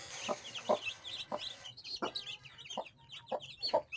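Chickens and newly hatched chicks in a village cluck in short, repeated bursts, several birds close by, with softer chirps and peeps scattered in between.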